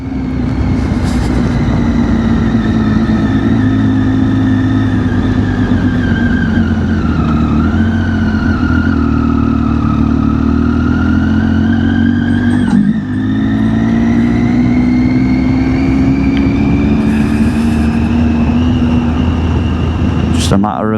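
A Triumph Tiger XCX motorcycle engine drones steadily and loud throughout, its pitch rising and falling with the throttle, with a brief dip partway through and continuous wind and road roar underneath.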